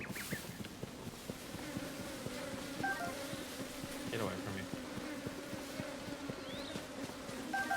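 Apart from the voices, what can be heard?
bees buzzing in video game Tears of the Kingdom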